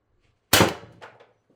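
A TR50 Torpedo airgun with a tuning barrel fires a single 12.7mm ball bearing: one sharp, loud crack followed by a couple of fainter trailing knocks, with no voices.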